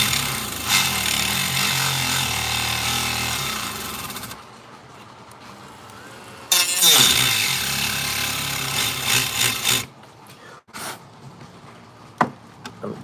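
A power tool cuts through wood in two loud, grinding bursts with a quieter stretch between them, then stops, leaving scattered knocks and handling noises.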